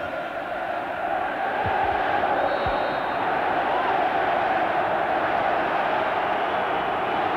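A large football stadium crowd of about 50,000, a continuous distant roar of cheering that swells slightly and holds steady throughout.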